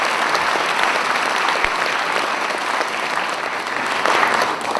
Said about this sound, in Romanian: să răsplătim, bineînțeles, cu aplauze